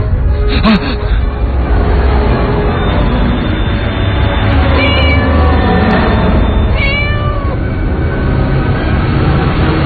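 A cat meows several times, with rising drawn-out cries near the start and middle, heard over a constant loud rumbling background of road or engine noise.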